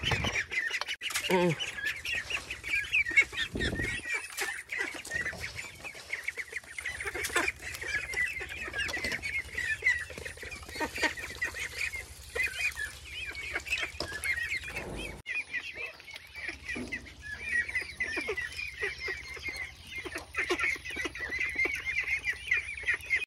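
A flock of ducks on a duck farm quacks and chatters almost without pause, near and busy, with a voice heard faintly now and then.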